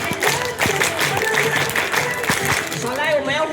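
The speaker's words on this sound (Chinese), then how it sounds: "下一次我要最大声的掌声哦" An audience at a children's stage show in a Taoyuan shopping mall applauds in a dense, steady wash of clapping, with voices calling out over it toward the end.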